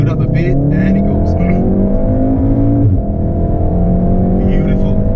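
A Volkswagen Golf R coupe accelerates hard from inside the cabin, its engine note climbing steadily and loudly through the revs, with a brief dip near the middle as it shifts, then pulling again.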